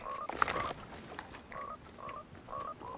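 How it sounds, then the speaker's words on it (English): Frog croaking in the Fortnite battle royale game, a series of short, faint, evenly spaced croaks repeating over about three seconds against quiet game ambience, with no voices. "Oh yeah, I forgot frogs were in the game."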